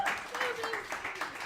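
Several people clap together at a girls basketball gathering at a pizza restaurant, a brief scattered round of applause with a voice speaking faintly underneath.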